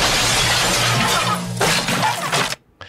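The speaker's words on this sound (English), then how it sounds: "Starts out with them busting into a home, crashing through windows." Glass windows shatter loudly in a movie scene as people burst into a home, a dense crashing burst of breaking panes lasting a couple of seconds before cutting off sharply.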